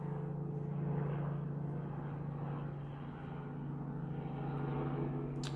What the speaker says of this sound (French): L'hélico en même temps que l'avion...